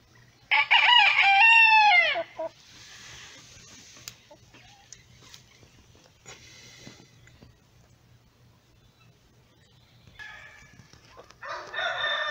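A rooster crows loudly up close, followed by soft clucks and scratchy rustling, with more chicken calls rising toward the end.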